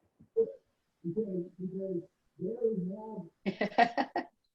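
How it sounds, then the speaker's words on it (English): A cat meows several times in short drawn-out calls, close and fairly clear in a quiet room, ending with a brief harsher burst. "Kitty cat."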